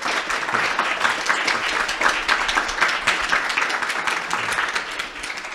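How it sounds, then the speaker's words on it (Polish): A lecture audience gives a speaker a round of applause, steady and fairly close clapping from many hands that continues throughout without any break. "Także gorące brawa dla doktora."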